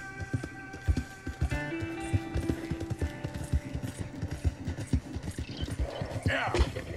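Horse hooves clip-clopping in a steady trotting rhythm with a whinny near the end, in the video game Red Dead Redemption 2; close and clear, with a voice talking over part of it.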